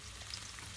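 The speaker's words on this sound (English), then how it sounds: "Paprika is frying." Paprika frying in a pan of oil, a soft, steady sizzle heard faintly and briefly, with no other sounds.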